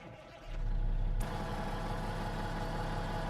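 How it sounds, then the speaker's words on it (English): A Kenworth K100E truck engine starts up and settles into a steady low rumbling idle, with a brief hiss of air partway through. "That's how the truck sounds"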